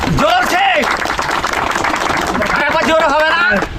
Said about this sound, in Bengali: ওনার জন্য একবার সবাই হাততালি দিন জোরে